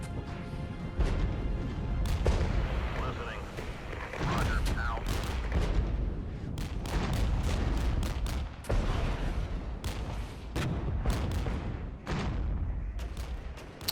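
An off-map artillery strike in the game Regiments brings a dense, loud barrage of booms and crashing blasts over continuous rumbling battle noise, with sharp impacts repeating throughout.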